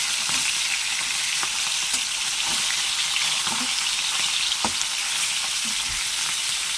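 Pieces of hilsa fish fry lightly in hot oil, giving a continuous close crackling sizzle punctuated by occasional sharp spatters and soft stirring knocks, with no one talking.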